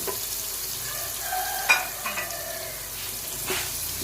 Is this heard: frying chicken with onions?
yes